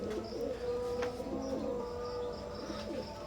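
A pair of Teddy pigeons coo softly and repeatedly in low, rolling murmurs, close by, with a faint chirp now and then.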